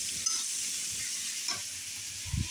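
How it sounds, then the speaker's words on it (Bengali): Rice in a pot on a wood-fired stove comes to a boil, a soft bubbling hiss under faint scattered knocks, with a low thump near the end and no voices. "ভাত বলক আসছে।"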